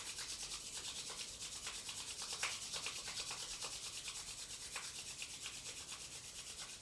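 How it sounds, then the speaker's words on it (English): Two palms rubbing briskly together to build warmth during a yoga warm-up, a close, dry, continuous swishing friction with repeated back-and-forth strokes and no voices. "Rub the palms against each other to create heat."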